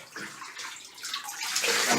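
Shower water pouring steadily while dogs are washed, a bright hissing spray with splashing that grows slightly louder toward the end, close by and with no talking.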